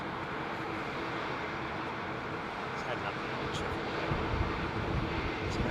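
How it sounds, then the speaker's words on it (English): An IAE-powered British Airways jet at Heathrow Airport gives a steady, broad jet-engine roar that swells slightly toward the end, with a voice faintly audible over it. "Been very, very good to British Airways, these IAE powered jets."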